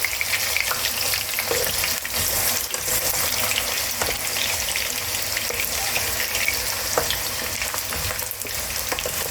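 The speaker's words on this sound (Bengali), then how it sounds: "এবার আমি কেটে রাখা আলুগুলো ভেজে নেবো।" Cut potatoes fry in hot oil for a mutton curry, a steady, dense sizzle that runs close and loud for the whole stretch, with occasional clinks of stirring and no talking.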